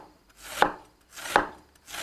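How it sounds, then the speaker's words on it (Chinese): A knife chops side vegetables on a cutting board for a dry-pot bullfrog dish, giving two distinct, evenly spaced thuds with a third starting at the end, close and clear with no talking. "等它腌起哦，腌到这儿把配菜切一下"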